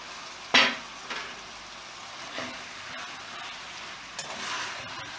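Puttigel added to a hot pan for Jamaican puttigel and saltfish, a sharp sizzling burst as it lands, then softer frying hiss with a few stirring scrapes, close up and without talk.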